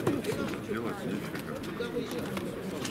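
Broad-tailed pigeons coo at a bird market, their low, soft calls repeating through a steady murmur of nearby voices and market bustle.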